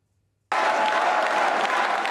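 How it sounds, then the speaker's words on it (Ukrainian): After a brief silence, a crowd at a party election headquarters bursts into loud, sustained applause that continues steadily to the end. "Оплесками зустрічають попередні результати виборів у штабі Християнсько-демократичного союзу"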